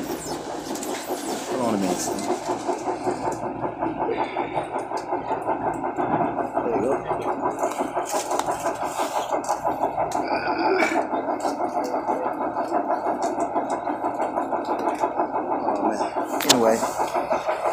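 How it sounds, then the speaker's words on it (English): Steady rumble and rattling clatter of a passenger train riding toward 23rd Street, continuous and close throughout, with someone talking over it and a brief squeal near the end. "Yeah, I'm on a train."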